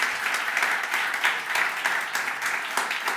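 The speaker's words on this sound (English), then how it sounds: "this is a first round of applause for Merve" An audience at a multimodal AI talk breaks into applause, a dense wash of clapping at moderate volume, fairly even throughout the few seconds.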